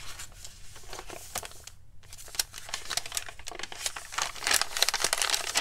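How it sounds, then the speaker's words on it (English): Crinkly, textured paper pages of a handmade floral journal rustle and crackle as they are turned, giving steady close crinkling with sharper bursts of page flips throughout and no talking. "I love how crinkly everything is in here"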